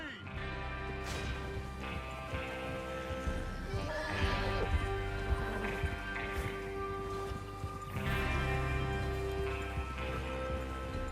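Horses galloping in Red Dead Redemption 2, with busy hoofbeat clatter and an occasional whinny over a continuous mix of ambient game sound, swelling louder at a few points.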